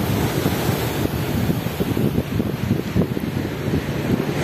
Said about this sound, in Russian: Волны сегодня обалдеть,